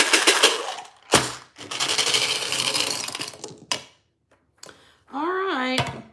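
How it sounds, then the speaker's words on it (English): Dice are shaken hard in a cup several times, loud clattering rattles in bursts separated by short pauses, followed by a voice at the end. "we're going to shake the dice, folks."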